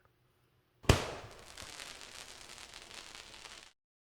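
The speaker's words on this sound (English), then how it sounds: "The New Year's Eve fireworks in London are a spectacle to behold" A sudden sharp bang followed by a dense, crackling hiss that fizzles for a few seconds before cutting off, like a firework burst, at New Year's Eve fireworks in London.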